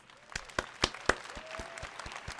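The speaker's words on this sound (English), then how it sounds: "Let's give them all a round of applause." Scattered handclaps from a small audience, a few distinct claps rising into a light, faint patter of applause.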